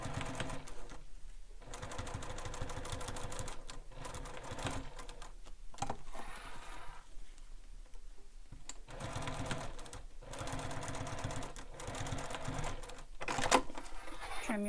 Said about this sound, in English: we're going to top stitch on each side of that seam using the seam allowance given in the pattern